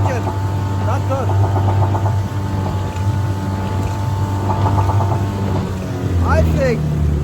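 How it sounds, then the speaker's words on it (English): A Hidea 15 HP outboard engine drives a boat at speed, a loud steady drone with water rush throughout, while speech cuts in briefly now and then. "Hear the sound of the engine. Not good."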